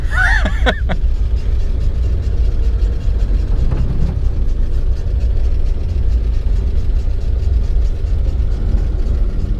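Engine of a 1962 Plymouth Valiant abandoned for over twenty years, heard on a test drive with braking: a steady low rumble with rattling, knocking mechanical noise, a brief squeal at the start and a thump midway.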